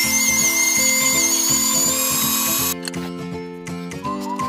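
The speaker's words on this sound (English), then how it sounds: "Cut the meat into smaller pieces and grind." An electric meat grinder works through pieces of fatty pork shoulder, giving off a steady, even motor whine that shifts slightly in pitch partway through and runs without a break.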